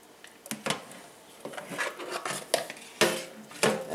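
Fish eggs from blue catfish mashed by hand in a metal colander to strain them, giving irregular soft scraping and clinking knocks of moderate loudness with no talk.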